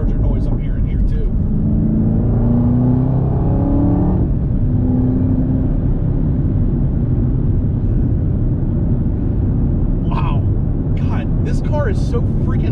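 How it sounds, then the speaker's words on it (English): A 2021 Chevrolet Camaro ZL1 1LE driving, its supercharged V8 humming and rising in pitch under acceleration, with a steady supercharger whine, heard from inside the car as someone talks over it. "I'm liking the amount of supercharger noise I'm hearing here too."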